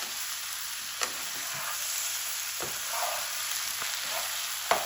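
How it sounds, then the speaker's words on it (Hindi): Tomatoes added to okra frying in a pan give a steady, close sizzle, broken by a few soft clinks and scrapes of stirring. "अब यहाँ पे टमाटर ऐड कर देंगे।"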